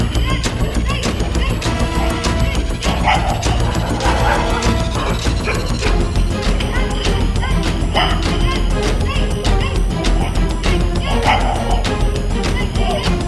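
Street dogs bark in sharp, repeated bursts while chasing and biting a fleeing worker, loud and chaotic over constant clatter and crashing noise across the whole stretch.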